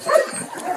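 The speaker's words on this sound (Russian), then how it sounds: "Очень сладкая собачка" A small dog at an animal shelter enclosure gives a brief, fairly close yip or bark lasting under a second, with no talking over it.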